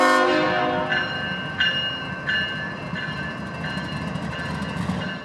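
A CSX local freight train arrives at a grade crossing with its horn sounding at the start, then the rhythmic clack of wheels over rail joints repeats steadily as cars roll past close by.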